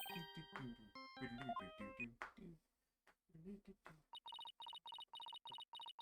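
A phone rings in the Phoenix Wright: Ace Attorney Dual Destinies video game, a repeated electronic ringtone pulsing in quick, regular bursts after game sounds and a brief voice.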